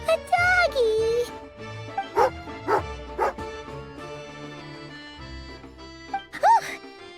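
Tugarin, a dog in a video game, growls and barks angrily in several short bursts with whimpering yips, mixed with game voices and chimes.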